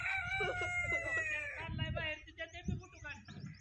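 Chickens cluck close by while a rooster crows, and the fowl calls overlap in a busy farmyard chorus.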